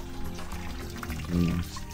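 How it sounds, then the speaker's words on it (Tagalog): Water runs from a faucet at an outdoor washing area of a riverside farm campsite, a steady close splashing stream that swells briefly, with no talking over it. "Gripo."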